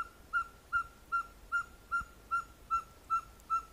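A ferruginous pygmy owl (coruja caburé) in the Caatinga gives a steady series of clear, evenly spaced whistled toots, about nine notes in a regular rhythm, fairly close and alone.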